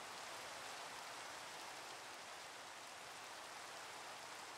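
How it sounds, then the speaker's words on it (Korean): Steady rain falls as a soft, even hiss of drops, faint and continuous with no voices or other sounds over it. "갑자기 왜 이렇게 비 내리는 거야?"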